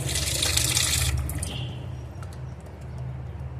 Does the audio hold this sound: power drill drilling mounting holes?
no